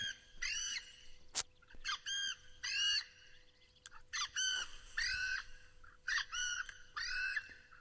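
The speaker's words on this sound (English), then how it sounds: "I have no idea what that bird is." Harsh, repeated squawking calls from a bird in the Fishing Planet video game, set on an English fishing water, coming in short bursts about every second, fairly close and clear with no talking.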